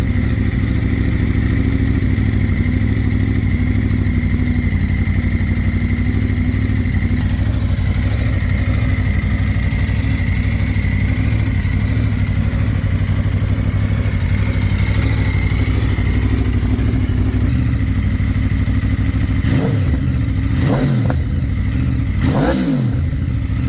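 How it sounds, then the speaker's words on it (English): An Aprilia RSV4 Factory limited-edition superbike runs with a loud, steady, close idle for about twenty seconds, then barks through a few sharp throttle revs near the end. "I'm gonna start the bike in a second."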